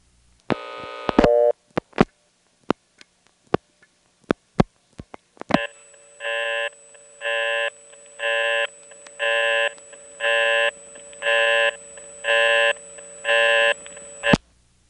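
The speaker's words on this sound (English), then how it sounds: "if you dial 1 plus an invalid code, you get a very distinctive busy signal" Distinctive telephone busy signal from the Williamston, North Carolina step-by-step exchange in 1977, reached by dialing 1 plus an invalid code: after a few scattered clicks, a loud steady tone pulses on and off in an even rhythm about eight times, alone.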